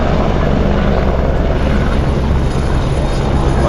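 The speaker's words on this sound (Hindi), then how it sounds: "तो ये रही गाइस यहाँ की हेलीकॉप्टर सेवा।" A helicopter at the Kedarnath helipad in the Himalayan valley runs close by, a loud, steady rotor and engine roar that holds through the whole stretch with no voices.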